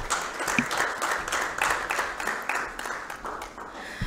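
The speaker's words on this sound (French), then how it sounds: "j'aimerais que vous applaudissiez" Steady crowd applause with a dense patter of many hands clapping, moderately loud and continuous throughout, slowly tapering slightly toward the end.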